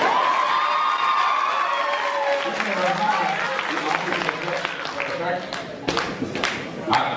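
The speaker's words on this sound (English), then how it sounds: "She deserves a round of applause for that." Applause and cheering from a school pageant crowd at a Mr. DHS contest, mixed with shouts and voices; the clapping swells, thins out in the middle, then returns in sharp scattered bursts.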